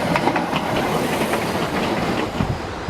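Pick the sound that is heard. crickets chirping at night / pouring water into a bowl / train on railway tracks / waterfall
train on railway tracks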